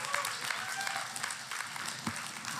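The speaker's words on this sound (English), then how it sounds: "Give her a round of applause." A small group at a live facilitation session claps briefly, a soft, moderately distant patter of applause with faint voices underneath.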